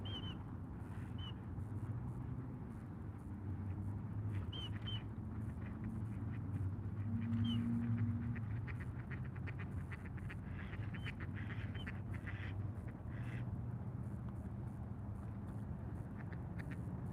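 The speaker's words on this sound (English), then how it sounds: "We'll sit here with the ducks for the sunset." Ducks at a pond at sunset give scattered, fairly faint quacks at irregular intervals over a steady low background hum, with no talking.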